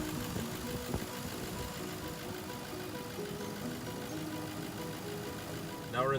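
A car engine idles after an oil change with a low steady hum, with a brief click near the start and a short rise at the end, heard at moderate distance.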